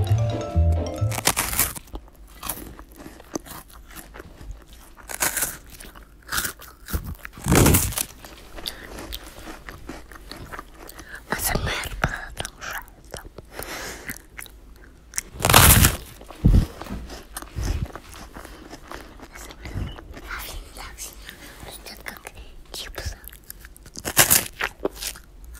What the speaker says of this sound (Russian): Вот мы открыли, и сейчас будем по очереди откусывать.